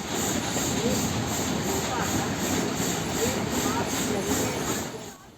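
An Indian Railways train rumbles steadily along the rails with a continuous rolling roar and faint rhythmic clatter, fading at the end.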